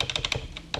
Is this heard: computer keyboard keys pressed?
yes